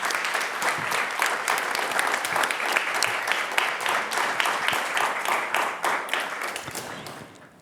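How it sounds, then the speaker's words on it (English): An audience at a closing event applauds the speakers, sustained even clapping from a sizeable crowd that tapers off toward the end. "Let's have a round of applause for our speakers."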